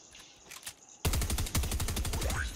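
Automatic gunfire in Fortnite: after a second of quiet, a loud rapid burst of shots rattles out continuously in a tight rhythm, close and dominant.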